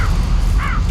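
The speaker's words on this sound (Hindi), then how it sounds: "जैसे ही फेंका उस पे चील कौवे टूट पड़े" Crows cawing over swooping kites as they pounce on something thrown down, two short harsh calls rising above a steady low rumble of background noise.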